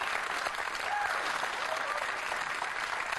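Studio audience applause at a comedy panel show, a continuous wash of clapping from a crowd, moderately distant and fairly even, with a faint voice briefly audible beneath it.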